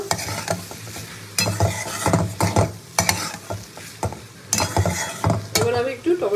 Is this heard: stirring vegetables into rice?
yes